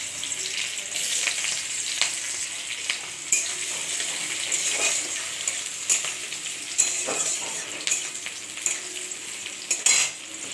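Sliced onions fry in oil with black cumin seeds and green chili, giving a steady crackling sizzle broken by occasional spatula scrapes and light taps against the pan.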